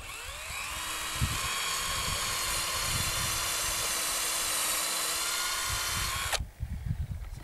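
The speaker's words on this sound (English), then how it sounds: "It's a 5mm drill bit." A power drill with a 5mm bit bores into a wooden fence post, whirring steadily for about six seconds at close range, then stops abruptly, leaving faint handling noises.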